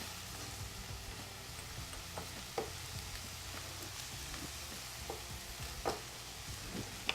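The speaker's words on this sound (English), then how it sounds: "Give that a stir." Apples and spices fry and sizzle steadily in a pan while a utensil stirs them, with occasional soft scraping clicks against the pan.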